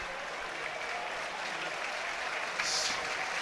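Millwall fans in a football stadium applaud steadily, a distant, even wash of clapping under the match atmosphere, swelling slightly near the end.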